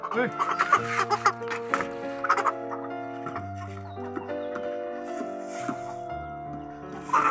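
A chicken, rooster or hen, clucks in short bursts close by, mixed with voices and some laughter.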